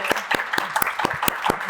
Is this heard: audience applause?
yes